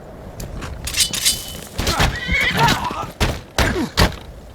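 A horse in the video game Skyrim whinnies loudly in several shrill, shaky bursts, mixed with thudding hoof clops and dull impacts of an in-game fight.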